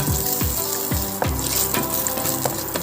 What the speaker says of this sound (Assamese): অকণমান জাষ্ট আলুখিনি এনেকৈ ভাজি ল'লে ভাল লাগে বেছিকৈ খাই